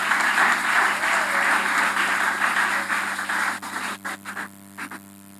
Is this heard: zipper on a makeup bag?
no